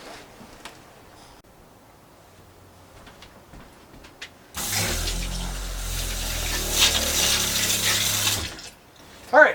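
Water gushes steadily from a vintage camper's tap right after its pump primes, a loud continuous rush that starts abruptly and runs for about four seconds before cutting off, following a quieter stretch of small handling noises.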